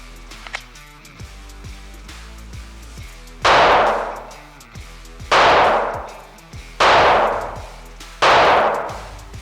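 Four loud rifle gunshots fired during a torture test of a rifle optic, each a sharp blast with a decaying tail, spaced roughly two seconds apart after a quieter stretch of faint clicks and handling noise.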